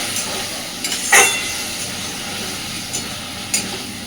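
Potatoes and onions fry in a pan for a fish curry, giving a steady close sizzle. A few brief scraping clacks come from stirring with a utensil.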